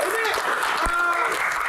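Applause from an Indonesian comedy show audience, a steady wash of many hands clapping together, fairly loud and close, lasting just under two seconds.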